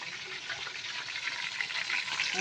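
Chicken crisp-frying in hot oil gives a steady, dense, close sizzle with a hissing crackle that runs throughout, no voices.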